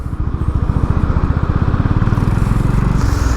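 A Honda CB 350 motorcycle engine labouring with a pillion passenger aboard, a loud close low chugging beat of rapid regular pulses with no talking.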